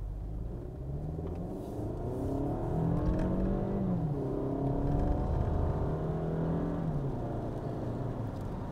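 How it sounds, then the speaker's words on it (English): A Toyota Camry engine hums and rises gently in pitch as it accelerates smoothly on a wet road, a steady close rumble with no voices. "We'll just do a mild acceleration."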